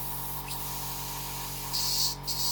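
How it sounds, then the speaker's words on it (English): An airbrush sprays white paint onto a miniature model, a soft steady hiss with a couple of brief louder bursts toward the end, close and without talk. "I will go the next color after short cleaning the airbrush with white"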